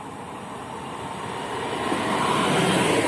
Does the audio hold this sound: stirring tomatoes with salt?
no